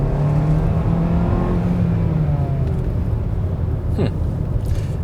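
A 2024 Hyundai Kona Limited AWD with a 1.6-litre turbo engine accelerates hard, its engine note rising and droning loudly from inside the cabin, with a brief whoosh partway through.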